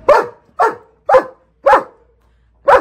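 A dog barks loudly and close in five sharp, evenly spaced barks about half a second apart, with short silent gaps between them.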